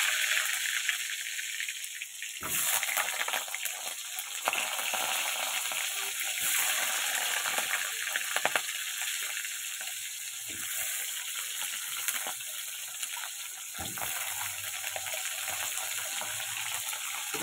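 Diced potatoes fry in oil in a kadai with a loud, dense, continuous sizzle close by. It briefly swells and shifts as the pieces are moved, and a low rumble enters near the end.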